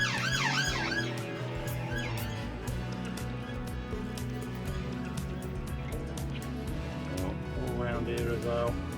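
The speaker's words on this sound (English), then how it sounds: "Hang on, siren's coming." A wailing emergency vehicle siren sweeps past outdoors near a workshop where a roll cage is being painted, rising early then fading under steady broadband noise and traffic rumble.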